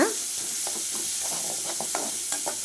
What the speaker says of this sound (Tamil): வெங்காயத்தை நல்லா வந்து வணக்கி விட்டுக்கலாங்க